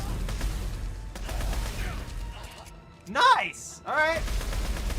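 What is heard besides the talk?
machine gun firing in the video game Dead Space 3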